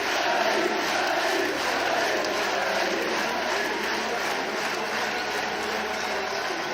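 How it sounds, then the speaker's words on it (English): A large crowd at an esports finals event roars and cheers for a player, a sustained dense swell of voices heard from a distance, steady and loud with no clear breaks. "that must just be pure heaven to hear a crowd cheering for you that way"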